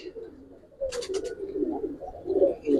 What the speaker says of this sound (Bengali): আমার পুরান কবুতর এটা অনেক ভালো কবুতর